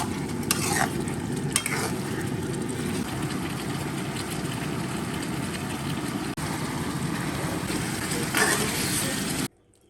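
Braised pork belly sizzling in a wok as the sauce reduces over high heat, with steady loud frying and the scrape of stirring throughout until it stops abruptly at the end.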